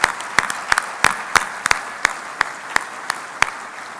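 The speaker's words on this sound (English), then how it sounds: "Please join us in a final round of applause for all of the finalists and winners of this year's 2018 Idaho Innovation Awards" Scattered, sparse clapping from an audience at the 2018 Idaho Innovation Awards, about a dozen sharp separate claps spread unevenly across a few seconds with no voices over them.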